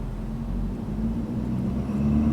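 A 2016 Ford F-350 with the 6.7 Powerstroke diesel, tuned from 425 to 600 HP, idling and then building revs, giving a low droning rumble that swells gradually and stays steady up close.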